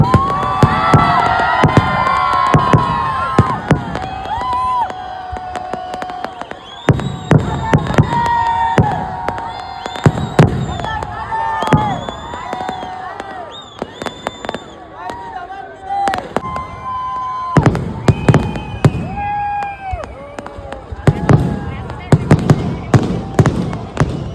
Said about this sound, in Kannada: ಪಟಾಕಿಗಳು ಸದ್ದು ಮಾಡ್ತಿವೆ, ನೀವು ಮೌನಾಚರಣೆ ಮಾಡ್ತಿದ್ದೀರಾ?